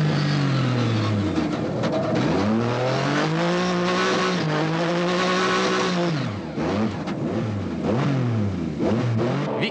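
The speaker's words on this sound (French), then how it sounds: "Pourchassée par l'Opel Astra de Ferté, Debanne va la mettre au talus." Rally cars, a Seat Cordoba chased by an Opel Astra, race on a dirt ice-racing circuit at the 1996 Trophée Andros, engines revving loudly and continuously with rising and falling pitch as they accelerate and shift through corners.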